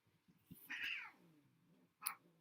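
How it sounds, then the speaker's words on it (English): A cat whines and meows in the background, as a few faint, drawn-out cries and a short sharp yowl, heard alone at low level. "There are cats in the background."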